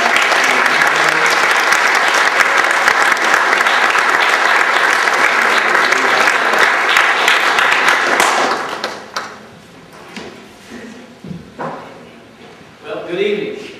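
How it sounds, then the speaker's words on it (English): An audience in a church applauds loudly and steadily for several seconds before the clapping dies away into scattered claps and a voice. "if you guys can give a round of applause to"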